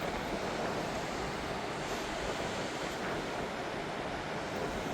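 Steady surf washing at a beach, a continuous broadband roar of waves with some wind buffeting the microphone, loud and close with no pauses or talk.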